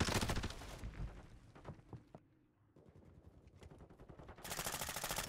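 Bursts of automatic gunfire crackle in a video game firefight, loud rapid volleys at the start and again at the end with a quieter lull in between.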